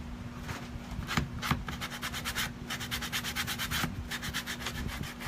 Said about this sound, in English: So now we're gonna sand it.